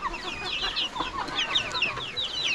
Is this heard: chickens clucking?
yes